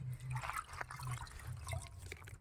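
Hot water poured over a goat stomach to clean it, giving a close, soft splashing and dripping trickle that runs steadily for a couple of seconds.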